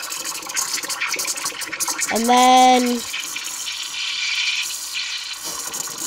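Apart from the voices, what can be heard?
milk being frothed, bubbles pushed into it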